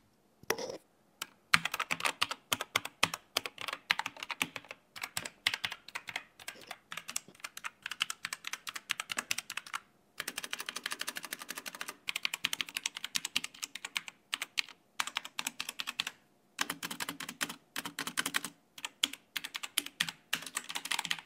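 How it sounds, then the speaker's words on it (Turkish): Rapid, continuous typing on a Rampage KB-R28 Blade Plus mechanical keyboard with red switches, soft clacky keystrokes in quick bursts with brief pauses, recorded up close and fairly quiet. "Klavyenin bir tuş seslerini dinleyelim."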